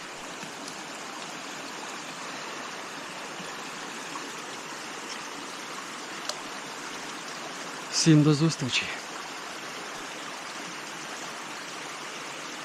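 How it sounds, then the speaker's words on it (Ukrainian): A stream flows in a steady, hissing rush from start to finish, with a brief spoken phrase partway through; beside a river while pike fishing. "той шум води"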